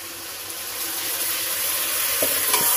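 Ground ginger, cumin and green and dry chilli paste hits a hot frying pan in a village kitchen, giving a steady bright sizzle with a couple of soft stirring clinks, no talk.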